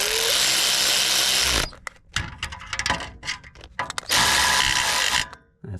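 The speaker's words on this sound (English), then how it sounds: "I'm going to take my electric ratchet because it's faster" An electric ratchet whirs in two loud bursts while working on a C8 Corvette during a transmission tool install, with clanking and handling noises in the gap between bursts.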